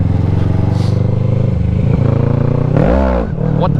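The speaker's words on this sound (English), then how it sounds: "I'm gonna go pop a wheelie" A motorcycle engine revs hard and close while the rider pops a wheelie, with a rising and falling throttle surge near the end.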